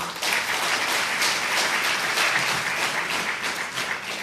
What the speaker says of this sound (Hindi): एक बार ताली जरूर बजाओ